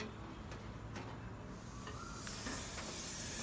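An injured Russell's viper gives a steady, breathy hiss, close and sustained, that grows brighter and stronger toward the end, with no voices over it.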